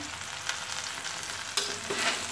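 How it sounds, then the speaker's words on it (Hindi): Jaggery and turmeric frying and being stirred in a pan for sweet mango pickle, a continuous close sizzle with scraping stirs and a couple of louder spatula strokes, no voices. "अब इसको तब तक भूनेंगे जब तक गुड़ अच्छा से पिघल न जाए"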